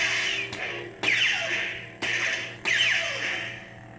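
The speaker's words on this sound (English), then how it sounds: "And laser blasts or saber clashes." A Star Wars Force FX Luke Skywalker lightsaber toy fires four sharp electronic bursts, each a crack followed by a falling, ringing zap, spaced about half a second to a second apart over a low hum.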